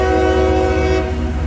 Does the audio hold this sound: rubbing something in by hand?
no